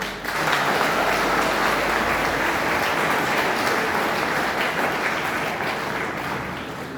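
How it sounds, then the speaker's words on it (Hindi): Audience applause in a university hall at a Gita Jayanti event, a dense, steady wash of clapping from a large crowd that holds strong for about seven seconds before easing slightly at the end, with no voices over it. "ताली तो बजाइए।"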